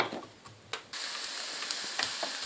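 Onions fry lightly in a pan for chicken Maggi noodles, a soft steady sizzle that swells after a brief quieter start, broken by a few faint stirring taps.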